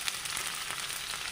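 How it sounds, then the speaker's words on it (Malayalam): Whole peeled garlic cloves frying in hot sesame oil, a soft even sizzle that holds steady for a brief moment, quiet and with no voices. "വെളുത്തുള്ളി, പൊളിച്ച വെളുത്തുള്ളി അപ്പാടെ ഇടുവാണ്"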